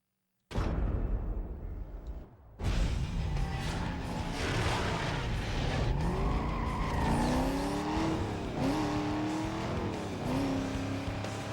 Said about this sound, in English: the engine sounds in this game was so good